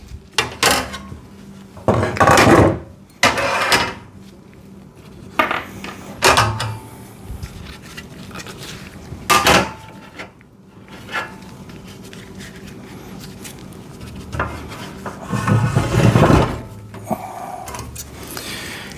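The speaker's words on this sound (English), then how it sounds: "next you're going to be looking for the beveled screws, washer, and the nuts that fit that" Metal screws, beveled screws, washers and nuts for a folding welding table rattle and clink in bursts as hands dig through them, with quiet pauses between the clusters of jingling.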